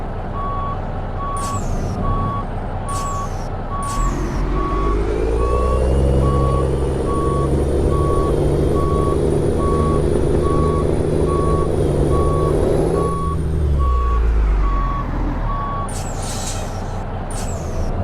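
A Kenworth K100 truck in American Truck Simulator backs up, its reversing alarm beeping in an even, steady rhythm over a loud, droning diesel engine, with sharp air brake hisses near the start and end.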